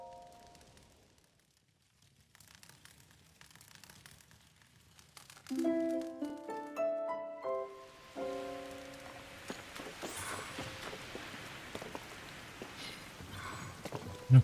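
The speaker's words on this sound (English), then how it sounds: "And of course it's raining again" Rain falls in the video game Zelda: Tears of the Kingdom as a soft, steady patter. A short melodic chime plays partway through, and the rain then swells louder and denser.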